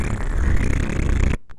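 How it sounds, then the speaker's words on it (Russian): A cartoon character lets out one loud, low, sputtering fart lasting just over a second, ending abruptly, followed by a brief faint squeak. "хватит уже пукать"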